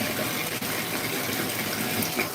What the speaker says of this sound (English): And then I'm going to turn the water to cold, which is miserable.